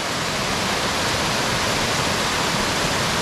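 A natural waterfall in Utah pours in a steady, dense roar of falling water, loud and close, unbroken for the whole stretch with no voices.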